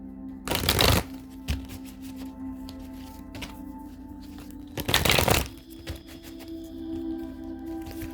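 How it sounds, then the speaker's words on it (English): Cards from a Golden Tarot deck are shuffled in two short, crisp riffling bursts several seconds apart, close and fairly quiet, with light handling clicks in between and a faint steady hum behind. "We're going to pull 3 cards from the Golden Tarot deck."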